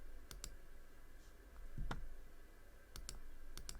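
A handful of sparse computer keyboard keystrokes, scattered single clicks and a short cluster near the end, quiet and close against a low steady room hum, with no talking.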